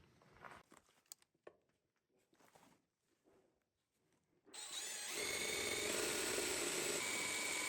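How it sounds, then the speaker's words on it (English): A power drill bores holes in the frame rail of a Polaris 6x6 ATV during a winch install. Quiet handling noises come first, then the drill starts and runs as a loud, steady whine. "I have to drill some holes here and here"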